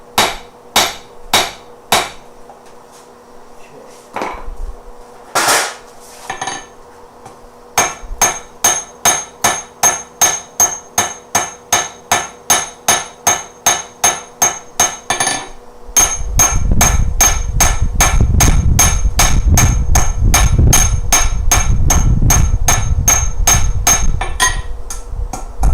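A blacksmith forges hot metal with a hammer, sharp ringing blows landing in quick rhythmic runs with brief pauses, then a loud steady rushing roar takes over while the strikes keep ringing through it.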